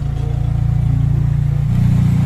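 A noisy car engine rumbles low and steady up close, its pitch shifting slightly upward near the end.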